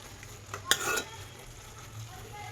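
A spoon scrapes once through Andhra-style meal maker curry in a frying pan, a short scraping stir over a faint sizzle, with no talking.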